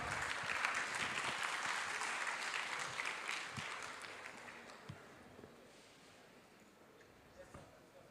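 Conference audience at a cardiology meeting applauding, a broad rush of clapping that starts strong and gradually thins and fades, with a few scattered claps and thumps lingering at the end.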